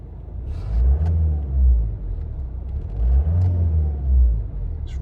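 A warm Rover 75 with the 2.0 CDT diesel engine idling: a steady, smooth low rumble with gentle rises and falls, close and continuous.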